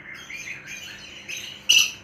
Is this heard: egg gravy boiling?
no